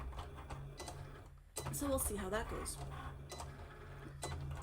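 A crafting cutting machine whirs and clatters with rapid mechanical ticking as it cuts, while a person speaks briefly over it, close by.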